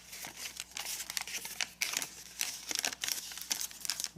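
Paper crinkles and rustles close by as it is folded and pleated for an origami labyrinth. Soft, irregular creasing and crumpling continues throughout, with no talking.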